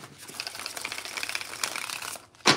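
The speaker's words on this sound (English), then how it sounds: "God, that was a good shuffle right there." A deck of tarot-style cards is shuffled by hand, giving a quick run of riffling, crinkly flutters up close and faint, ending in a sharp snap as the deck settles.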